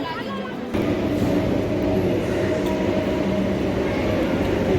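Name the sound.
metro train arriving at station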